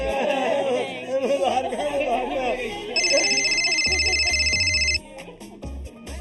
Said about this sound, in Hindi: वो समधी साहब का फोन आ गया।